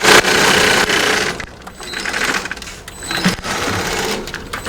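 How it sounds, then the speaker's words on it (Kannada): An industrial sewing machine in a Bangalore mattress factory stitches mattress fabric in loud running bursts, its motor whirring up and dropping off between passes. "ಇವಾಗ ಸ್ಟಿಚಿಂಗ್ ತಗೊಂತಾ ಇದೀವಿ ನೆಕ್ಸ್ಟ್ ಲೆವೆಲ್."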